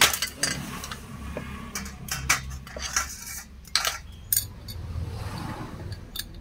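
Metal clutch and pressure plates from a Pulsar NS200 motorcycle clinking and scraping as they are handled and stacked, with repeated sharp close metallic clinks over a low background hum.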